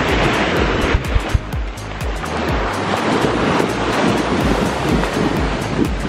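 Sea waves wash in steadily over bare feet at a beach in Bohol, Philippines, a continuous close surf wash with wind buffeting the microphone and no talk.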